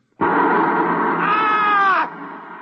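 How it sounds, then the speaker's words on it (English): A man screams on waking from a nightmare in a radio drama, one loud, sustained cry of about two seconds that rises into a strained, harmonic peak before breaking off and trailing into a quieter tail. "he woke up, screaming."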